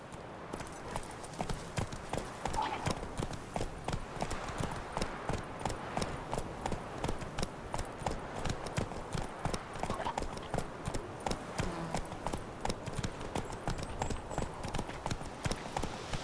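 Roach, the horse in The Witcher 3, gallops in a fast, steady hoofbeat rhythm that carries on without a break, with faint game sounds underneath.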